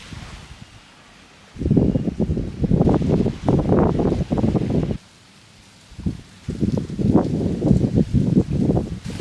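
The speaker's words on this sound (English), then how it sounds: "it is a little bit windy out here" Wind gusts blow outdoors at a Maldives resort, coming in two long bursts of heavy, rumbling buffeting against the microphone, separated by a short calmer lull.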